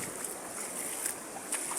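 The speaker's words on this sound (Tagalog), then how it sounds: "Ganito kalakas yung bagyo na nasa namin dito." Strong typhoon wind during a storm, a dense continuous roar of gusting air with rushing hiss and a few brief sharper bursts, loud and unbroken.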